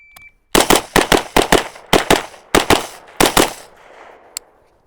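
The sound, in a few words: gunshots during a shooting drill on a target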